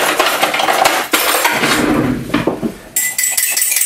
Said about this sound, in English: I'm gonna just whisk up the egg a little bit